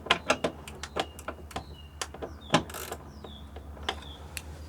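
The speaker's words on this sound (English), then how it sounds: "you're gonna just loosen up where the window is, where the window bolts are." A 12 mm socket ratchet loosens the window bolts inside a G37 coupe door, giving a run of sharp, close clicks in quick irregular bursts with short pauses, no talk over it.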